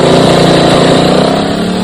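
A motorbike on a main road passes close by, its engine a loud, continuous drone that fills the whole moment without any talking.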